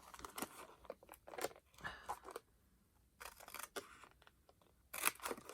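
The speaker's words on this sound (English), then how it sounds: "I'm going to cut it all off." Scissors cut through a paper pocket in a journal, giving a run of close, crisp snips in short bursts with brief pauses between strokes.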